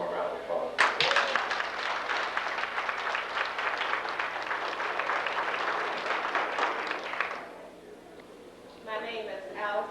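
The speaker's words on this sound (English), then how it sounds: "let's give him a round of applause" Round of applause from the audience at a high school class reunion, steady dense clapping for several seconds that fades out, then a voice begins speaking.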